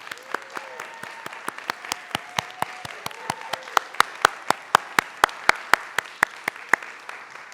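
During a symposium session recognising committee members, sparse, sharp claps ring out in a steady rhythm from a small group. A faint voice sounds early on beneath them.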